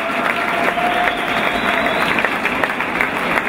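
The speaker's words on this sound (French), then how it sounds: "je voudrais qu'on applaudisse, s'il vous plaît" At the 2013 Men's World Team Squash Championships, an indoor crowd applauds a squash player with a continuous, fairly loud patter of many hands clapping together, with a few individual claps standing out.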